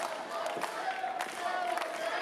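A wrestling crowd cheering and roaring as the wrestler Tattoo rallies them, a steady wash of arena noise with scattered shouts, heard under an excited commentator's voice.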